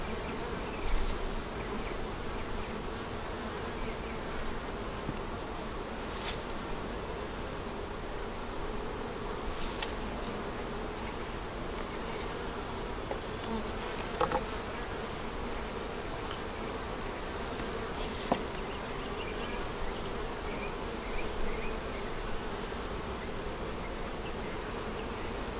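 A steady, dense buzzing of many honey bees droning together throughout, with a few louder individual passes close by.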